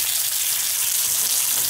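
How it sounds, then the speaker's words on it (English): Hardtack frying in bacon fat in a pan, a steady close hiss and crackle of sizzling grease, continuous and even throughout. "I just want to give it kind of a crusty fry"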